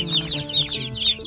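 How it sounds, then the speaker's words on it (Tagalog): A chicken clucks close by in a quick run of short, bright calls, with low background noise beneath. "yun yung manok"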